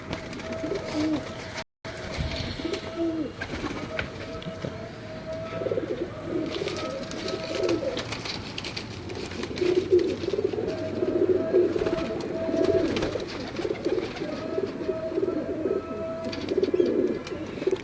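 Ferozpuri pigeons coo repeatedly and steadily, with low, throaty rolling calls that grow denser and louder toward the end.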